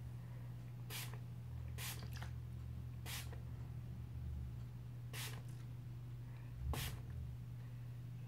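Five short bursts of hairspray hiss out one after another over a steady low hum, each puff brief and close.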